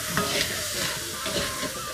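Cumin seeds sizzle in hot oil in an iron kadai, a close, steady crackling hiss that holds evenly throughout with no talk.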